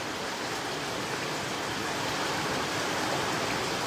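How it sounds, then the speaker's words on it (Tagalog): Heavy rain pours down in Singapore as a dense, unbroken roar of broadband noise, loud and steady for the whole stretch, with no voices. "ang lakas ng ulan dito guys, sa totoo lang"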